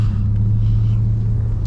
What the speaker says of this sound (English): car already started up in sport mode, traction already off